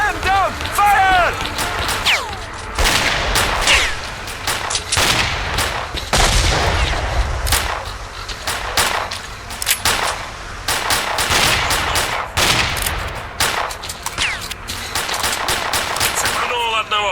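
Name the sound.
gunfire in the video game S.T.A.L.K.E.R.: Clear Sky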